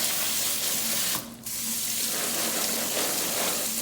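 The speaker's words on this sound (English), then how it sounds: "I'm going to wash them off. So I'm just going to dump them in this strainer." Macadamia nuts are rinsed in a strainer under a running tap, with a steady, close rush of water that briefly dips before flowing on.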